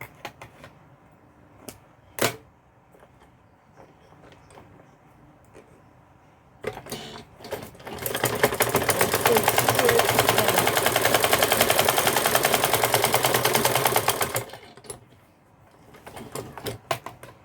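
A sewing machine runs in one steady, loud, rapid stitching burst of several seconds as it closes the upper part of an A-line gown with a turtle neck, with quieter handling clicks and fabric shuffling before and after.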